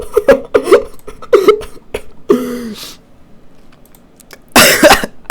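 Several coughs from a person who is a little sick, coming in quick bursts close to the microphone, followed by a quiet pause and then a harsher, louder cough at the end.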